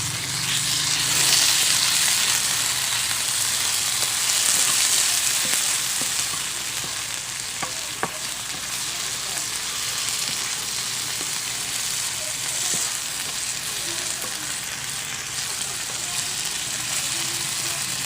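Corned beef sautés in a hot pan, a steady loud sizzle and crackle running throughout, with occasional sharp pops and faint stirring scrapes.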